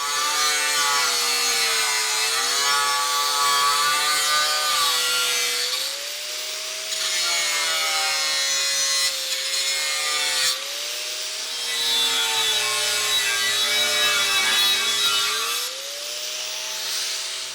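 A hand saw cuts the top corner off a wooden pallet fork, with steady back-and-forth rasping strokes, close and loud, pausing briefly between runs of strokes, with no voices.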